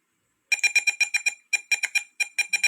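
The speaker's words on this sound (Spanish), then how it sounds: "Vamos a ver la activación de la alarma." Electronic temperature alarm on an Arduino greenhouse control system beeps in rapid bursts of short, bright tones, three clusters of about four to six beeps each, starting after a brief silence, clear and close with no talking.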